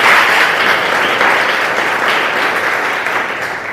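Audience applause at a five-day training closing ceremony at NG Ranga social science college, clapping for the millets unit that cooked lunch: dense, steady clapping from many hands, loud throughout and fading slightly at the end.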